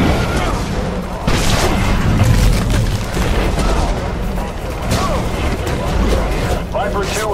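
Gunfire and booming artillery in the video game Prototype 2, a dense, continuous barrage of shots and blasts with mechanical clatter, loud and close, while radio voices talk over it.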